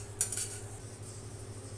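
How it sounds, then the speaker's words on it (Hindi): Vermicelli is roasted in leftover ghee in a wok (kadhai) and stirred continuously, giving soft scraping and clinking of a spoon against the pan over a low steady hum, fairly quiet and close. "सिवई को भी लगातार चलाते हुए भूनेंगे।"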